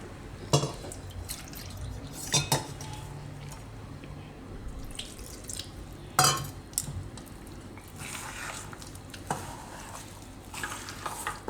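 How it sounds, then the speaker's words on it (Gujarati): Water is added to soybean dhokla batter in a mixing bowl, with a few soft trickles and sharp clinks against the bowl over a quiet kitchen background. No one speaks. "તો આમાં જ આપણે પાણી લઈ લેવું થોડું."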